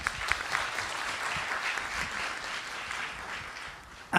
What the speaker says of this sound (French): applaudissements sur plusieurs bancs